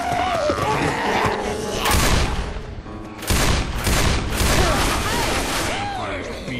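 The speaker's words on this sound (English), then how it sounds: "Now this is a big-ass machine gun." A big mounted machine gun fires in a train yard in the Left 4 Dead 2 video game, with loud sustained bursts of rapid gunfire pausing briefly between volleys as character voices speak over the action.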